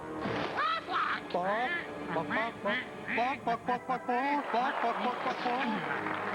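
The Aflac insurance commercial duck quacks in its nasal, honking voice, a string of loud, close quacks mixed in with people talking.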